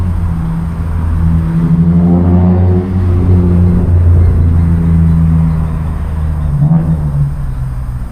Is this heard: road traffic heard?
yes